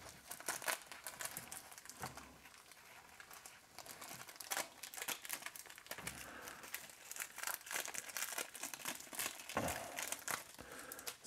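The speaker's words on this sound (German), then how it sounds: "Folie trennen." Plastic film is peeled away from a bonsai's air-layering on a Katsura Japanese maple, giving a steady, close crinkling and crackling with sharper rips and bursts throughout.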